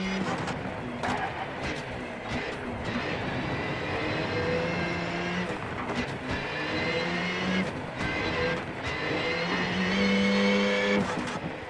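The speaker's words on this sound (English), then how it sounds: "the noise emanating from under the bonnet of the Skoda Fabia Rally 2 is a recording of a food" Skoda Fabia Rally 2 rally car engine in the video game WRC Generations, a continuous high-pitched buzzing whine that rises and falls with gear changes and revs, heard steadily throughout.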